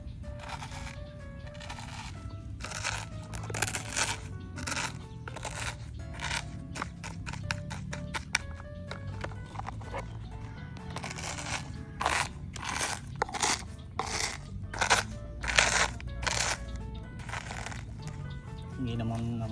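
Repeated crunching and crackling of brittle snail eggs being crushed, close up, in a steady series of bursts over a low background.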